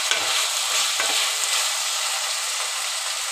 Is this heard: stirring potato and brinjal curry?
yes